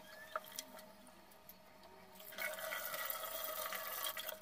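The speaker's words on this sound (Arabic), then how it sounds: "انا بشطف في الحوض بتاعي والمواعين بتاعتي" Water runs into a home kitchen sink while dishes are rinsed, a steady splashing stream that grows louder and fuller partway through, with scattered drips and light clinks early on.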